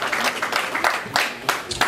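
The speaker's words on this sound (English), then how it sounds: "A round of applause for Nnamdi." A crowd at a Biafran welcoming gathering in Toronto applauds Nnamdi Kanu, the scattered clapping moderate in level with a few sharper claps standing out and faint voices underneath.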